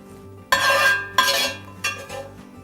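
Ginger and cumin seed scraped from a pan off the stove into a bowl, three quick metallic scrapes and clinks close up with a low hum beneath, no voices.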